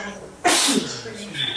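A single sharp sneeze bursts out nearby during a church group meeting, a loud brief blast followed by a faint murmur of voices.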